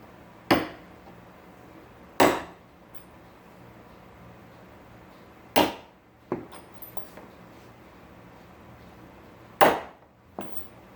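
Roofing nails hammered into a board: four loud, sharp blows spaced a few seconds apart, with a few lighter taps between them, close to the microphone.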